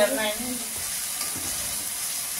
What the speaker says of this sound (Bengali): এই তিলের পেস্টটা ভালো করে নেড়ে খালি তেলের মধ্যে ভালো করে ভাজা হবে